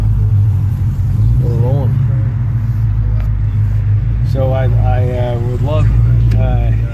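A 2017 Dodge Challenger Scat Pack with a manual transmission cruises along, its engine giving a deep, steady rumble from inside the cabin while people talk over it.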